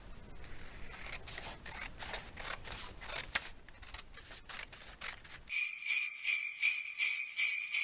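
Scissors snipping through folded computer paper for a snowflake, a run of crisp close cuts, followed by a brighter rhythmic metallic rustle near the end.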